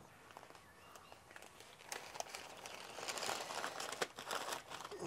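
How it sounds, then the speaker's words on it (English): Cooked bacon-wrapped jalapeño honey ribs being unwrapped from foil or paper, giving soft close crinkling and crumpling that builds toward the end, with no talk. "Let's unwrap these little bad boys."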